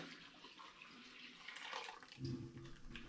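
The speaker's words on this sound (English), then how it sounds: "I'm now going to add that sugar water into here" Sugar water pouring and splashing steadily into a home-brew imperial stout batch in a container, quiet and continuous, growing slightly fuller toward the end.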